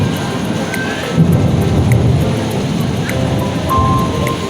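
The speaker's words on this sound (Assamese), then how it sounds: "গোটেই মেঘে গাজি আছে।" Thunder rumbles during a rainstorm, a low rolling boom that swells and fades over a steady hiss of rain.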